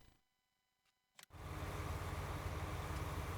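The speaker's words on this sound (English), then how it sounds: "it's the tractor again" A tractor engine in the Farming Simulator 19 video game starts after near silence and a couple of brief clicks, then settles into a loud, steady low rumble that runs to the end.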